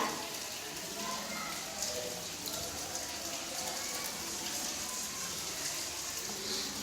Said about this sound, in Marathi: एका ग्लास मध्ये पिण्याचे पाणी टाकूया